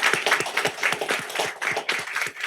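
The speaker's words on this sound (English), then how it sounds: "I just want to really give them a round of applause" Applause at a Terrebonne Parish council meeting: a room of people clapping steadily in a dense, even patter for a few seconds, with no voices.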